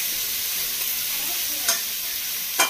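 Veg manchurian ingredients roast in a pan with a continuous close sizzle, and a spoon scrapes through them twice.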